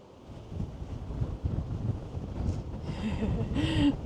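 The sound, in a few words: strong wind blowing on exposed hilltop, wind on microphone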